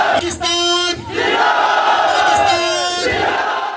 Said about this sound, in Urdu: ہزاروں ورکرز نے پاکستان زندہ باد اور کشمیر بنے گا پاکستان کے نعرے لگا کر ماحول کو پرجوش بنا دیا